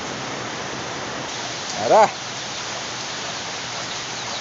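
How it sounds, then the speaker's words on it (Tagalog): Heavy rain pours down outdoors as a steady, dense hiss that fills the whole stretch, with a brief spoken word breaking through near the middle. "Ay, grabe ulan."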